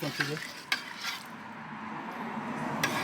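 Food being stirred in a large street-food pot in Adana, with a few scraping clinks of a utensil against the metal over a soft sizzling bubble.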